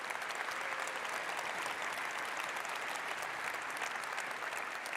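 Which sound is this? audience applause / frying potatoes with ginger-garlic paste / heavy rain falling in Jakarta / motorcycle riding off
audience applause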